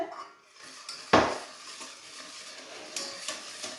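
A spoon stirs 100 g of sugar into a batter for a no-bake Napoleon cake in a bowl, with soft scraping swirls and one sharp clack against the bowl, close and alone.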